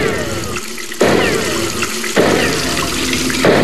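Water gushes steadily from a leaking hot water service, a loud continuous splashing rush like a running tap, with abrupt surges in level near one and two seconds.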